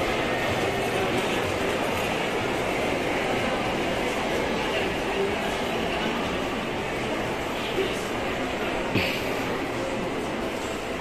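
A train runs at a Manila MRT station, a steady rumbling roar of rail cars with faint rattles and a few clanks, continuous and fairly close throughout.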